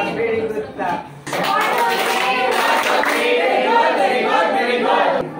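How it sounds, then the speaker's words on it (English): Classroom applause as a group claps together, dense steady clapping that swells after a brief pause and carries on with some children's voices mixed in. "let's give them a very good clap."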